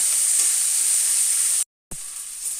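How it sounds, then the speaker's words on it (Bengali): Chopped onions with green chili and garlic frying in a pan make a loud, steady, close sizzle with stirring; the sound cuts out abruptly for a moment before the frying resumes. "পেঁয়াজটা আমার ভাজা ভাজা হয়ে গেছে।"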